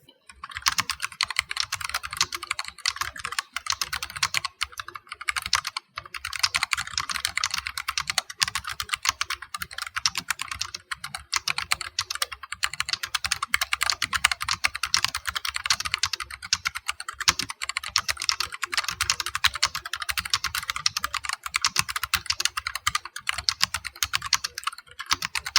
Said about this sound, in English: I can say that this is an incredibly new typing experience.